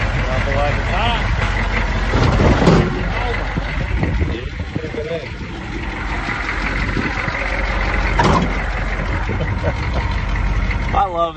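A loud, steady truck engine rumbles and idles throughout in a video game, with someone talking over it.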